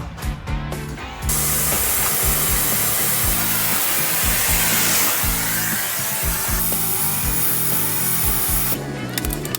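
A heat gun blows hot air onto a stuck bolt on a Mazda MX5, a loud, steady whooshing roar that starts abruptly after a second and runs continuously before cutting off near the end.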